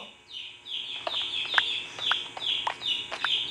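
Loud, rapid chick chirping from a video game, a steady run of high peeping calls repeating every fraction of a second with no talk over it.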